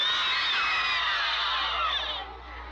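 A crowd in an Indianapolis ghetto in 1968 reacts to news of Martin Luther King's killing, a dense mass of voices crying out together, steady and loud, then easing slightly toward the end.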